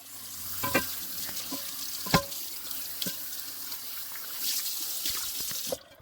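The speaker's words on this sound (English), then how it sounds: "Now we'll rinse." A cast iron pan is rinsed under running water, giving a continuous splashy rush close by with several clanks and knocks as the pan shifts in the sink.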